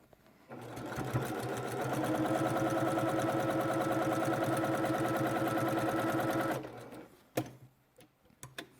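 Sewing machine stitching a fabric face mask, running steadily and fairly close for about six seconds with a fast regular needle rhythm, then stopping and leaving a few faint handling clicks.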